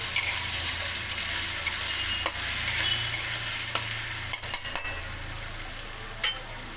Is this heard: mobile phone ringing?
no